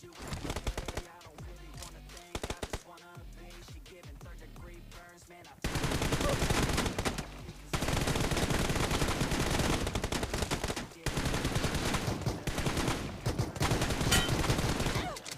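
Rapid bursts of automatic gunfire from the mobile shooter game PUBG Mobile, sparse at first and then loud and dense, with a few brief gaps between volleys.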